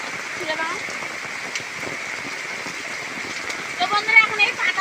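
Heavy rain pours steadily over a village, a dense continuous wash of drops under faint background voices, with a few louder patters and splashes near the end.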